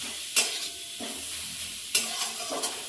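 A vegetable chop mixture fries and is stirred in a pan at home, with a steady soft sizzle broken by a few sharp scraping stirs; no one speaks.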